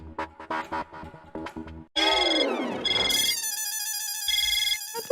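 A phone ringtone plays: a bouncy melodic jingle of short repeated notes, then a sweeping glissando and a bright, warbling electronic tone, loud and close.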